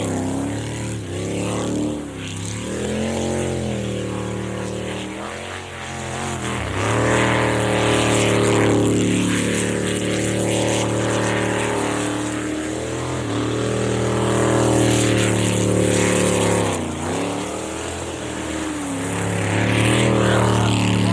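Jet sprint boats race with loud, sustained engine roar, rising and falling as they accelerate and turn through the course, with no voices heard.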